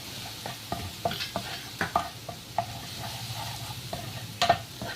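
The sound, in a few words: frying garlic, ginger and green chilies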